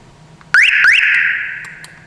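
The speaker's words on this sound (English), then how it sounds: "Then you get 2 blinks and 2 beeps from the horn." An aftermarket remote car alarm sounds two quick rising chirps close by, followed by a loud sustained tone that slowly fades.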